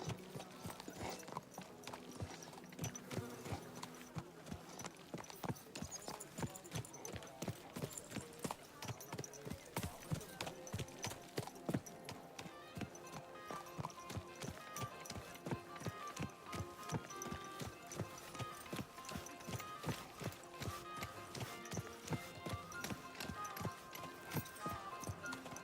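Horse hooves clip-clop in a fast, regular rhythm during riding in Kingdom Come Deliverance 2, quiet but continuous, with a brief whinny and game music underneath.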